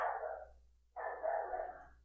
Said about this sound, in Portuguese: tem o cachorro do vizinho, tem a minha cachorra